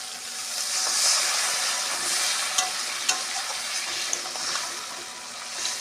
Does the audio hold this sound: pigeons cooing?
no